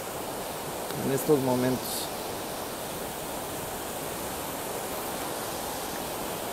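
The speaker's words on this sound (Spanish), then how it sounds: "Y aún se puede apreciar pues la fuerza del cauce del río" A river swollen after heavy rain and flooding in Colima rushes past in a constant broadband roar of fast-moving water. A voice speaks briefly early on, then the flow continues alone.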